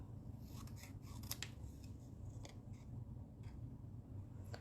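Scissors snip paper pieces at an angle for card making, producing a series of crisp, close cuts over a low background hum.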